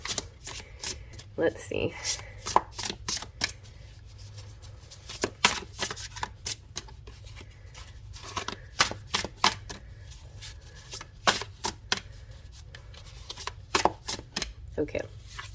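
Tarot cards being shuffled in a quick run of crisp riffling and slapping bursts, close and fairly loud, with brief speech at the start.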